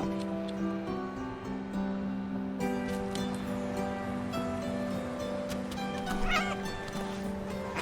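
Stray street kittens meow in a couple of faint, brief calls over a steady background hum that carries a constant tonal drone.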